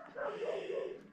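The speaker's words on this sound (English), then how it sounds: "I'm sure you can hear the dogs in the background." Dogs yapping and barking somewhere in the background, a faint, steady run of small barks over about a second with no clear speech.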